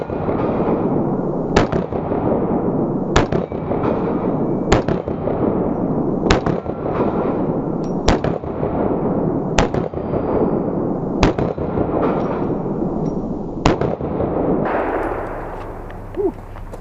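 Glock pistol with ported slide and barrel fired in about ten sharp, loud shots at a steady pace roughly every second and a half, with no talking between them.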